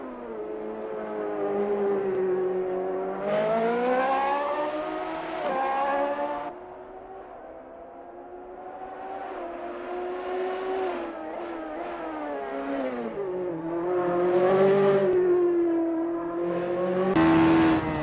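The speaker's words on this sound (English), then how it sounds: "Look at Megasaurus 55 go, they're really giving it some jandle now" Radical SR3 race car engine in a sim racing game at Donington Park, loud buzzing revs rising and dropping through gear changes, easing off midway before climbing again, no voices heard.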